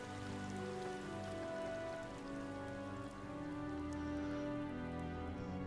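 Rain falling in The Witcher, steady dense patter of drops hitting surfaces, constant and moderately loud, layered with a soft tonal background with no voices.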